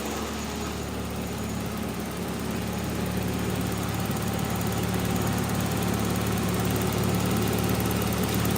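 A car engine idles in a small garage with a steady, even rumble and hum. The engine stays level and unrevved, with a faint high mechanical whine above it.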